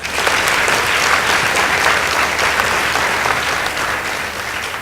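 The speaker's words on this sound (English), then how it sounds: "Please give the two teams a round of applause." A school debate audience gives two high-school teams a sustained round of applause, dense and loud throughout before easing slightly at the end.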